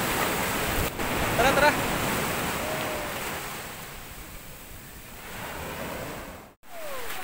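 Ocean waves roll and wash onto the shore close by in a steady roar, with gusts of wind buffeting the microphone and a person briefly calling out over the surf.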